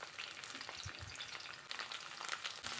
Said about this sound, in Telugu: ఆయిల్లో వేసి మళ్ళీ ఫ్రై చేయాలి.